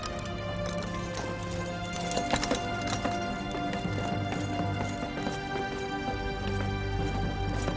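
Horse hooves clip-clopping on the ground as a rider dismounts at a royal palace in an ancient Chinese court drama, steady steps heard under a dense, continuous orchestral music score.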